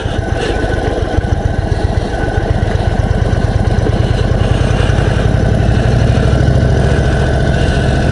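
A 2021 Indian Chief Dark Horse motorcycle engine runs steadily up close, a loud, deep, throbbing idle with a rapid pulsing beat that stays even throughout, with no voices over it.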